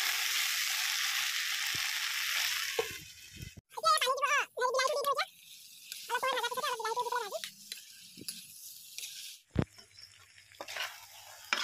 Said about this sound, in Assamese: তাৰপিছত পানী এতিয়া ধুনীয়াকৈ লৰাই ভাজি লৈ অকণ ঢাকি দিওঁ আকৌ।